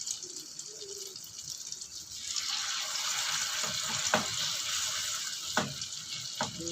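Eggplant omelette with corned tuna and tofu sizzling in a frying pan, a steady hiss of hot oil that swells after a quiet start, with a few sharp pops and clinks scattered throughout.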